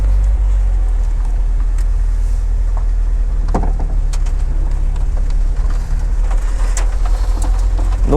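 An Opel Speedster's engine fires up at the push of a button and settles into a steady, loud, low idle rumble, with brief mechanical clicks and ticks over the continuous drone.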